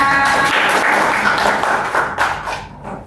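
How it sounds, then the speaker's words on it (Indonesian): A small group in a classroom claps briefly, loose overlapping hand claps and taps that start fairly loud and gradually thin out and trail off, with a faint tonal hum underneath. "Tepuk tangan semuanya."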